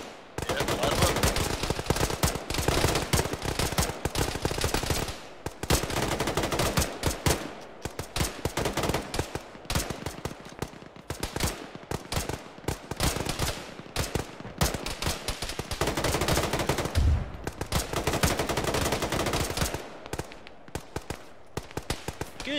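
Gunfire in a ShackTac military video game battle, with rapid bursts of automatic fire and single shots cracking repeatedly in dense, irregular volleys, near and loud, with brief lulls between exchanges.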